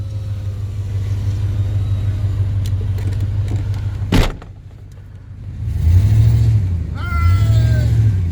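A Ford F150 pickup engine hums at a steady idle, then revs up twice in swelling surges while held on the brake, heard from inside the cab with a sharp knock between.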